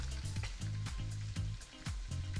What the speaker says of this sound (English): Now I'm gonna continue browning off my meat